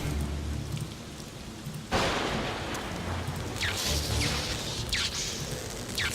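A lightning elemental materialises in the Shadowgate remake amid a storm: steady rain hiss, then a sudden loud thunderclap that rolls on under continuing rainfall, with sharp crackling bursts following.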